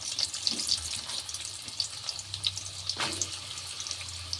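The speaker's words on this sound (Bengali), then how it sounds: "এবার আমি ভেন্ডি আর আলু হালকা হালকা ভেজে নেব।" Okra and thinly sliced potatoes fry lightly in oil in a kadai, a soft hiss with scattered pops and faint scrapes, close by and fairly quiet, no voices.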